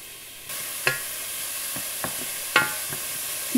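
Finely chopped onion sautéing in a little olive or rapeseed oil sizzles with a steady hiss, broken by a few sharp clicks and scrapes of stirring in the pan.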